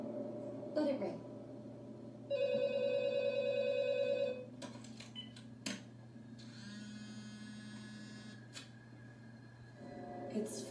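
A telephone in a movie scene rings with a trilling electronic bell in repeated bursts over a low mains hum, with brief voices and other noises in between.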